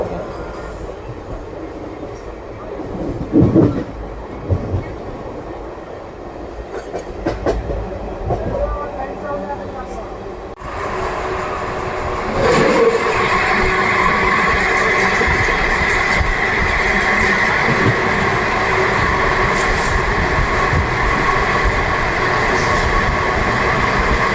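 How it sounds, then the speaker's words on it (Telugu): The Sai Nagar Shirdi Express on the Dornakal–Kazipet line gathering speed: a rolling rumble that swells and thickens partway through, with wheel squeal and clatter holding steady and close. "మన ట్రైన్ వచ్చేసానండి నెమ్మదిగా అయితే స్పీడ్ అయితే అందుకుంటాండి"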